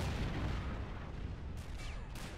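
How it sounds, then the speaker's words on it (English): Artillery fire in Men of War: Assault Squad 2, a 1940-era multiplayer battle with an 88 flak truck: a dense, continuous rumble of distant booms and bursts, with a couple of sharper streaking sounds near the end. "That's the artillery."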